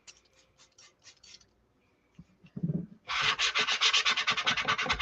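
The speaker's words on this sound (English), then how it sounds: "I'm just using an old gift card just to kind of scrape off some of the top layer of the paste" An old gift card scrapes the top layer of chalk paste off a Chalk Couture transfer: soft, faint rubbing at first, then a loud, steady run of rapid, rasping scrape strokes close by, with no talking.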